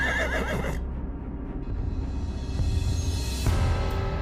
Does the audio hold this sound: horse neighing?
yes